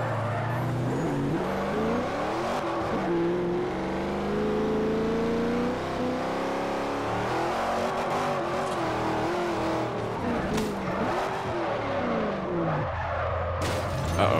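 A drift car in a driving video game revs hard and skids, its engine note rising and falling with tyre screeches in continuous close bursts.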